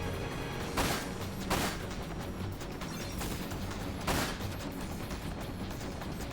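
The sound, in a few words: fireworks outside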